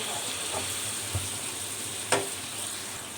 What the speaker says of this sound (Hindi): टमाटरों की भी सही से भुनाई करेंगे